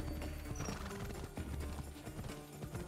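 Horse hooves clop in a steady rhythm in Assassin's Creed Odyssey, moderately close under a dense bed of game ambience and music.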